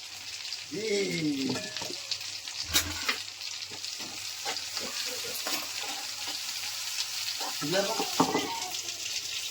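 Ginger, garlic and chilli paste fries in a hot pan with a busy, crackling sizzle, broken by scraping stirs and a few clinks of the spoon against the pan.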